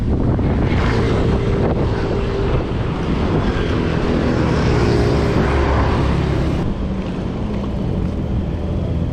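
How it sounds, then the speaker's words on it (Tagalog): Strong wind buffets the microphone during a ride on a Tekno Rhythm 4.0 mountain bike, a loud, continuous roar that covers everything else. "Lakas pa rin ang hangin"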